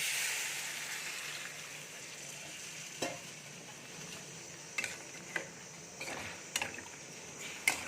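Water poured into a hot pan of pointed gourd and prawns, giving a broad hissing sizzle that eases into quieter bubbling, with a few sharp clicks and taps from the pan and utensil.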